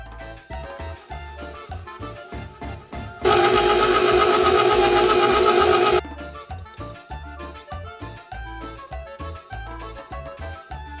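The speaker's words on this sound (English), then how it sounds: "We are going to stop our KitchenAid" A KitchenAid stand mixer churns tamale masa, its rhythmic motor hum pulsing steadily with a loud, harsher whining burst for a few seconds in the middle, and no voices.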